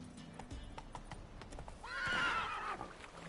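Roach, the horse in The Witcher video game, gallops with quick clip-clopping hoofbeats up close and lets out a loud whinny midway through.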